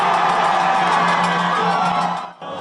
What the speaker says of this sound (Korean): 45년 전 통곡 소리가 들렸던 옛 전남도청에는 환호가 터져 나왔습니다